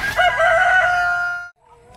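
A rooster crows a full, loud cock-a-doodle-doo close by in a pen of laying hens, and fainter clucking follows after the call breaks off.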